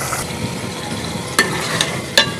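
Chicken keema with sliced tomatoes fries in a pan with a steady, close sizzle, while a few sharp scrapes from stirring break through near the middle and end.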